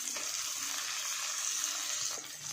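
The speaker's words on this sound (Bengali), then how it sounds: "আদা রসুনের কাঁচা গন্ধটা যাতে চলে যায় তেলের সঙ্গে কিছুক্ষণ নাড়াচাড়া করে দিচ্ছি।" Ginger garlic paste with chopped tomato and green chillies fries in hot oil for a potato and pointed gourd curry, a steady close hiss and sizzle with faint stirring scrapes underneath, fairly quiet and continuous.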